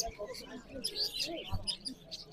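Birds chirp and tweet at the Margilan bird market, with scattered high calls over a busy background hum and murmuring voices.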